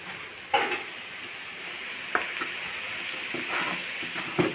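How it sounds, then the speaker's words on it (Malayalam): Ingredients for a sardine curry with kudampuli sauté in a hot pan, a steady soft sizzle with a few sharp scraping stirs of the spatula, close and alone without talk. "വഴറ്റി കൊടുക്കണം കേട്ടോ"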